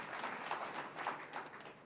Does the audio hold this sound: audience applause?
yes